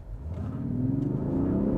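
A 2025 Range Rover Sport SE accelerates hard from a standstill on level ground, its engine droning and rising steadily in pitch over nearly two seconds, close and fairly loud, with no one talking.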